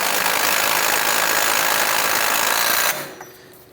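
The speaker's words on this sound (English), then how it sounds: "We're going to go ahead and tighten up that axle nut." The axle nut on a 2005-2007 Jeep Liberty is tightened with a loud, steady mechanical whir that runs about three seconds before cutting off abruptly.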